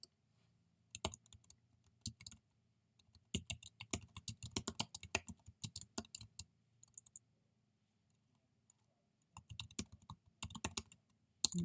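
Bursts of typing on a computer keyboard, quick clustered keystrokes in several runs separated by short pauses, fairly close and moderately quiet, with no talking.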